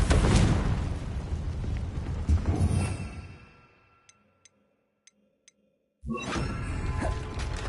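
A Confringo blasting spell cast in Hogwarts Legacy erupts in a loud, roaring burst that rumbles and fades over several seconds, followed by a few faint ticks in near silence before another heavy blast swells back in.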